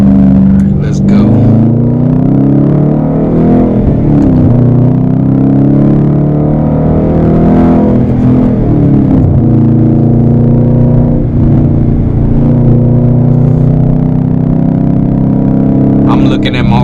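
Dodge Challenger R/T V8 with an automatic transmission, driven like a manual, climbing in revs through the gears, with clear pitch drops at each shift; a loud, steady engine drone close inside the cabin.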